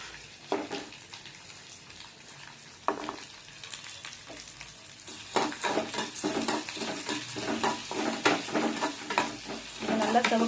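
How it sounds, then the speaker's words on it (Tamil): Moong dal, urad dal and chana dal fry in hot ghee with a soft, continuous sizzle. Scattered stirring scrapes and clicks grow busier and louder toward the end. "பருப்பு நல்லா வறுந்து வந்துச்சு"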